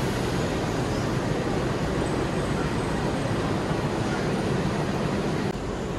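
Steady, loud rumble of the Gajayana executive passenger train riding on the Solo line, a dense unbroken roar of wheels and carriage noise with a slight drop near the end.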